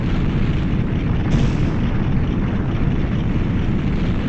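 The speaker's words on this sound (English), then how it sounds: "Every time it just breaks the floor, it just makes that sound, which is satisfying." A floor breaking and a tower collapsing in The Legend of Zelda: Ocarina of Time, heard as a loud, continuous, heavy rumbling roar that holds steady throughout.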